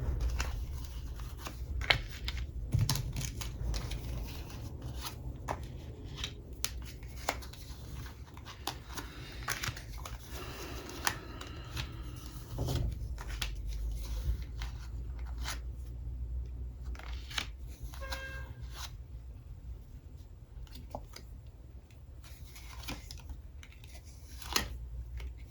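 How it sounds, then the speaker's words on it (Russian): Playing cards laid out one by one for a fortune-telling spread give soft, sparse snaps and slaps against a table, quiet and close, over a faint low background hum. "сейчас открою все карты"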